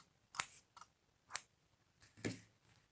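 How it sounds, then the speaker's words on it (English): Scissors snip yarn while a crocheter joins granny squares, giving a few quiet, crisp cuts spaced out over about three seconds in a near-silent room. "snip your yarn"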